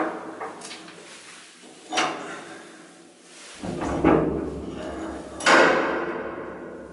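A heavy wooden door at a tourist attraction creaks and thuds open with wooden knocks and scraping, followed by a low rumbling room tone and further clunks.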